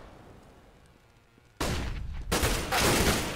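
Counter-Strike gunfire on the Inferno map during a StarSeries match: after a quiet stretch, loud close shots burst out in two sharp volleys about a second apart, with no talk over them.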